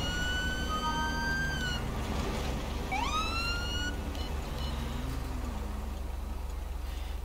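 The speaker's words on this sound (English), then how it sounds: "Ooh, sirens." Game police siren in LSPDFR, an electronic tone that holds, cuts off, then sweeps back up into a renewed wail over a steady engine drone, loud and near.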